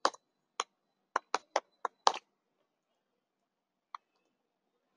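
Computer keyboard typing: a quick burst of six or seven sharp, close key clicks in the first two seconds, then a long pause and two more isolated taps, quiet and with no talking.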